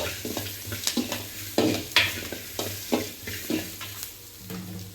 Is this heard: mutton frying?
yes